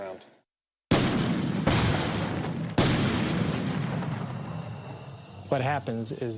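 Several loud, booming blasts from a bomb detonation, each followed by a shock-wave rumbling noise that slowly fades, then a brief burst of distorted talk near the end.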